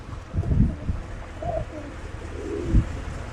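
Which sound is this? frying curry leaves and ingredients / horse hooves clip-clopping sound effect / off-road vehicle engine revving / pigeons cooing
pigeons cooing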